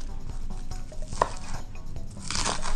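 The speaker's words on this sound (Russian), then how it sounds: "Зеленый лук измельчаем ножом." A knife chops green onions rapidly on a cutting board, quick soft taps in an even rhythm, close up with no talking.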